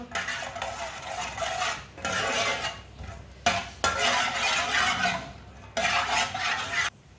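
Whole coriander and cumin seeds cooking in half a cup of hot oil in a pan, a busy sizzle with stirring and scraping that comes in several bursts separated by brief pauses.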